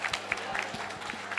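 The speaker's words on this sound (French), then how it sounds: "Merci d'applaudir." Audience applause, moderate and scattered with individual claps audible, heard fairly close for a brief moment.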